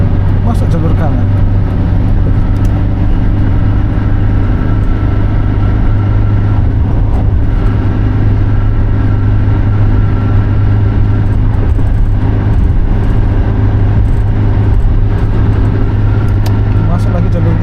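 A car's engine drones steadily from inside the cabin as it speeds up to pull into the right lane on the road from Surabaya to Malang, with a constant low rumble of road and engine noise throughout.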